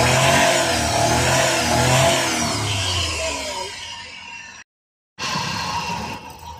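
A small gasoline engine revs hard right after spark plug and carburetor work, the roar sustained close by for several seconds, then easing off, with a brief cut before it picks up again.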